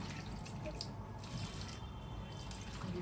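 Water runs steadily from a tap for watering plants in the evening, a soft, continuous hiss and splash at low volume with no voices.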